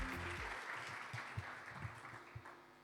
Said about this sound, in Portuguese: Démosle un caluroso aplauso a Elias Sfair.